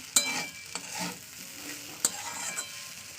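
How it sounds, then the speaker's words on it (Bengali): Flattened rice pulao (chire pulao) stirred and fried in a pan, with steady sizzling broken by a few sharp scrapes of a spatula against the metal, close and moderately loud, no voices. "আবার এটার সঙ্গে ভালো করে মিশিয়ে ভাজতে হবে"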